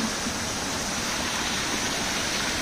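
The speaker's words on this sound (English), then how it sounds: "Look at this river, very beautiful." A big river flows steadily nearby, a broad, even rushing hiss of water with no pauses or voices, close and constant throughout.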